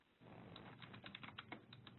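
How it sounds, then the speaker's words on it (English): Rapid, uneven keystrokes on a computer keyboard, close and fairly quiet, clicking steadily against a faint room hum with no voices. "as you're typing your responses"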